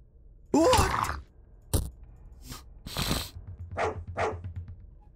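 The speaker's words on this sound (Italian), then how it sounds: "Abbaiano troppo forte." Several loud dogs barking in the horror game Fear and Hunger, a sharp growling bark up front followed by shorter, fainter barks and yelps spread across the stretch.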